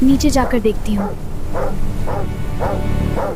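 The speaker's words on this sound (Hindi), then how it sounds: "कुत्ता भौंक रहा है," Someone speaks briefly, then a dog barks repeatedly at a steady pace, several muffled barks a little way off.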